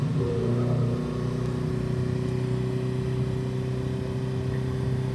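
A 1974 Alfa Romeo GTV 2000 hums steadily from inside the cabin as it drives into a corner on rough roads, a sustained mid-pitched engine drone with a slight dip early on and no talking.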